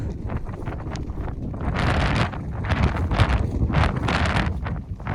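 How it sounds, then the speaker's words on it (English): Strong, gusty wind on a mountain peak in the Lake District buffets the microphone continuously, roaring louder in surges with a steady rumbling low end and no voices. "Still super windy on the peaks."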